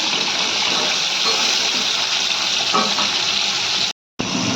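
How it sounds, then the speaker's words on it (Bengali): Fish pieces fry in hot mustard oil, giving a dense, continuous sizzle that stays loud and close throughout, broken only by a short silent gap near the end. "সর্ষে তেলে মাছ দিয়ে দিয়েছি। মাছগুলোকে ভেজে তুলে নেব।"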